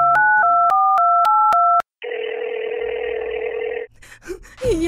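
A telephone call being placed: a quick run of dialing tones, then a steady loud dial tone lasting nearly two seconds, followed by a short burst of a voice or gasp at the end.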